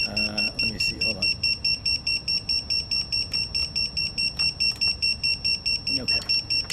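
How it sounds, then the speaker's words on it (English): A buzzer on a Flywoo Explorer FPV drone beeps in a fast, even series of high electronic pulses, near and continuous, while a person talks over it at the start and end. "that's our buzzer, that's working"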